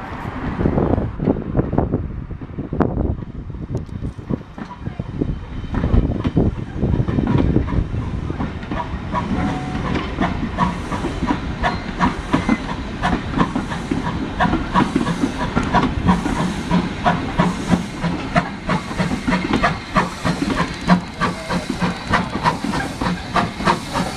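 A steam locomotive hisses steadily at a railway museum, a loud continuous rush of escaping steam with rail-yard clatter underneath, building in density after the first few seconds and holding strong to the end.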